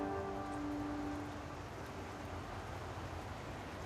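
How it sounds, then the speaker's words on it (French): Light rain falling in California just after a wildfire swept through the town, a steady soft hiss of drops with a faint low rumble in the background, no voices. "quelques gouttes tombent enfin sur la Californie"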